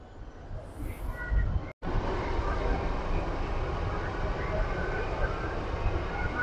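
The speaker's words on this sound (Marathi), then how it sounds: "आता बघा, डोर क्लोज होणार आहेत आणि आता ही ट्रेन स्टार्ट होणार आहे." Mumbai Metro Line 2B train, a short buzz followed by a brief cutoff, then a low continuous rumble and whine as the train moves off, steady and moderately loud.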